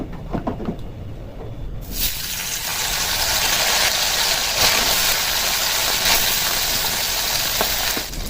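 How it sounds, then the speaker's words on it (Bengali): Chapila fish frying in hot oil in a kadai: after a quiet start, a loud, steady sizzling hiss bursts in and continues without letup, with no talking. "তেলটা গরম হয়ে গেছে মাছগুলো দিয়ে দেবো"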